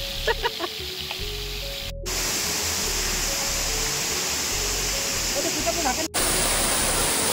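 Ransai Waterfall roars as a dense, continuous rush of falling water, loud and close throughout, with brief tonal sounds and faint voices near the start.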